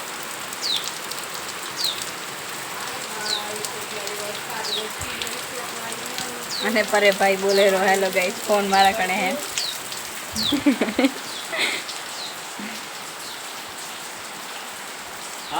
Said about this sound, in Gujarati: અમારી ત્યાં લીપરમાં વરસાદ વરસી રહ્યો છે